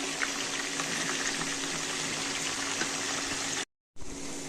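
Eggplant fries in a pan with garlic and salt, giving a dense, even sizzling hiss close up that runs steadily, breaks off for a moment, then resumes.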